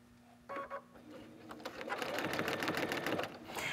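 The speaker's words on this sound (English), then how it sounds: "And I'm just gonna sew on all of these lines." A domestic sewing machine stitches along quilting lines for a trapunto project, its fast mechanical rattle running steadily and close up after a few brief taps at the start.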